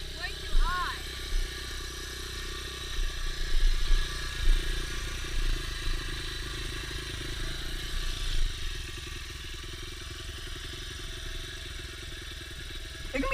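A dirt bike engine idling too high hums steadily and continuously in the background while people talk over it outdoors.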